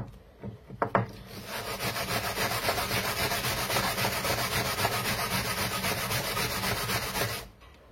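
A surface is scraped by hand with rhythmic back-and-forth strokes, a few knocks and then a steady run of loud, close rasping that stops near the end.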